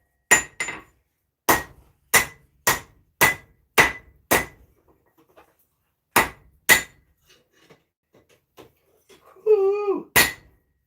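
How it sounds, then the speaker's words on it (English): Sharp, ringing hammer blows on hot steel being forged into a small blade, struck in quick bursts of two to five hits with short pauses, loud and close, with a short rising whistle near the end. "Forging these out."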